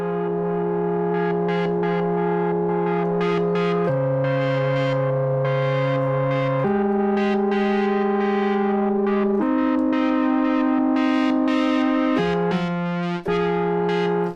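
A buzzy Sequential Pro 3 synthesizer in paraphonic mode plays sustained chords that shift every few seconds, filtered and slightly distorted with a faint echo, no voices.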